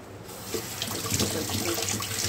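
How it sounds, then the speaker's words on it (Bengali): Tap water runs steadily into a kitchen sink as bay leaves are rinsed, a close, continuous splashing rush with no talking. "তেজপাতা ধুয়ে নিই, তেজপাতা ধোয়া ছিল না"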